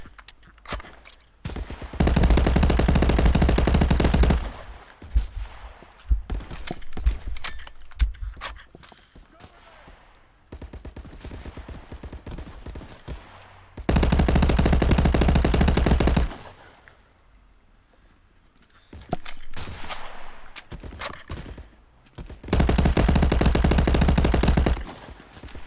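Bursts of rapid automatic gunfire in the VR shooter Contractors, set in a downtown map, come in three long loud sustained volleys separated by quieter stretches of scattered shots, footsteps and movement, with a voice speaking in between.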